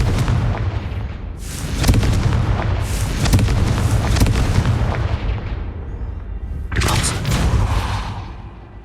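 Blasting-spell explosions in the Hogwarts Legacy video game, loud, heavy booms rolling one into the next with a fresh burst near the end, no talk over them.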